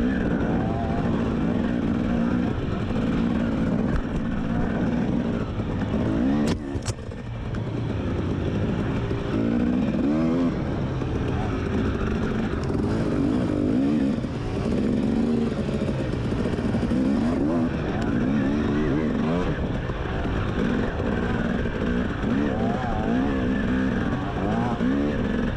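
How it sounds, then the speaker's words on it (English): A racing vehicle on a track with its engine revving hard, loud and continuous throughout, wavering pitch as the throttle rises and falls, with engine noise from another racer close behind mixed in. "there's a guy right behind me, revving his engine hard"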